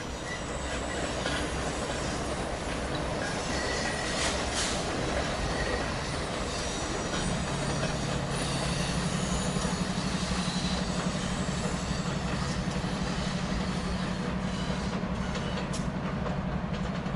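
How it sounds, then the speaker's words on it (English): An Amtrak Acela electric train heading north rolls past with a loud, steady rumble and rail noise, joined halfway through by a sustained low hum as it goes by. "Soon we catch an Acela heading north."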